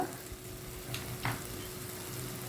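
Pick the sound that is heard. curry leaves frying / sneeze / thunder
curry leaves frying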